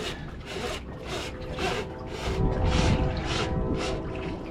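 Hand sanding with sandpaper, a steady rhythmic rasping of about nine strokes that sits close and fairly loud, with a low background rumble underneath and no talking.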